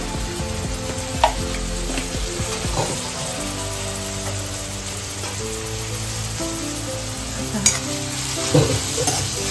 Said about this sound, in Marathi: सगळं मिक्स करून घेते